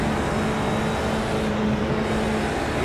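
Onboard engine of a Formula 4 race car lapping Spa in iRacing, a loud, steady drone with a constant tone and no pauses, heard alone.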